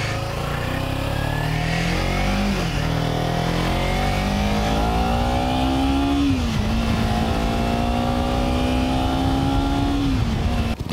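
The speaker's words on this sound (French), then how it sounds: "pour ceux qui ne savaient pas le bruit qu'elle fait, ma moto fait ce bruit là" A loud, close Kawasaki Ninja 300 sport motorcycle engine with a new exhaust, revving through several gear changes, pitch climbing steadily, dropping briefly at each shift, then rising again.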